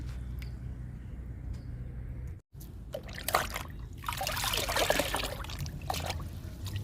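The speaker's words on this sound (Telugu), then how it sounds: "ఇప్పుడు ఈ లిక్విడ్ పూల మొక్కలకి ఇచ్చేద్దాము" Orange peel liquid is poured onto potted flowering plants, making a trickling, splashing pour that swells in bursts after a brief pause, close and fairly loud over a steady low background hum.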